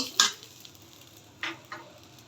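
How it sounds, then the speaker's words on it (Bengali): Two dried red chilies frying in oil, a faint low sizzle broken by a few brief sharp crackles or spatula scrapes, close by and quiet, with no speech. "এখানে দুইটা শুকনো লঙ্কা দিয়ে দিচ্ছি শুকনো লঙ্কাটা একটু ভেজে নিব"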